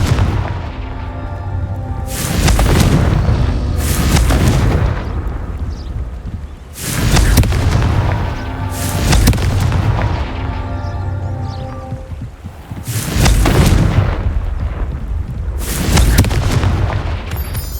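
Repeated Confringo fire spell blasts in the video game Hogwarts Legacy, roughly six loud booming explosions in irregular succession, each with a deep low-end thump and a rumbling tail that stays dense between hits.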